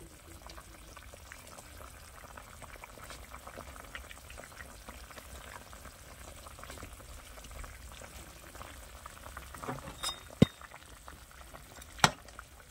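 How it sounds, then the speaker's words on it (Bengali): A vegetable curry bubbles at a soft simmer in a pot, a faint, continuous low burble with a couple of sharp metallic clinks near the end. "তরকারিটা ফুটে উঠেছে আর সিদ্ধ হয়ে গেছে সবজিটা"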